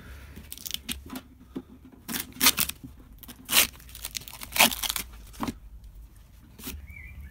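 A cutter slices through a plastic water tank in a Mercedes Sprinter campervan, giving irregular rasping, crackling bursts of varying loudness, close by, with quiet gaps between cuts.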